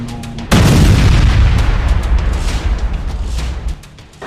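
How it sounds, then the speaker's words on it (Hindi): A rocket strikes an IDF tank in Rafah, Gaza, setting off a sudden loud explosion that booms heavily and rumbles for several seconds before fading. "ये रॉकेट सीधा आईडीएफ के टैंक पर जाकर लगता है, जिसमें जबरदस्त ब्लास्ट होता है।"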